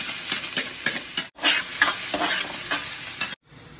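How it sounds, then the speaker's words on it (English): Onion and garlic crackle and sizzle in a hot pan, broken by repeated scraping strokes of a spatula and two brief cutoffs in the sound. "Magsutay na tayo ng onion and garlic."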